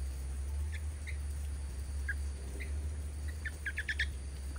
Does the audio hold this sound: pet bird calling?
yes